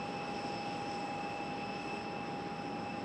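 A McDonnell Douglas MD-11 jet heard from a plane-spotting position at Raleigh-Durham International Airport, giving a steady, even engine roar with a high whine, constant and unbroken throughout with no voices.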